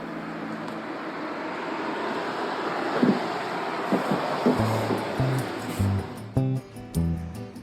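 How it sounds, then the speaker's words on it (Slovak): Ocean surf and gusting wind along a coast in Japan, a broad continuous wash with buffeting microphone rumble and a few sharper low thumps toward the end. "Oceán."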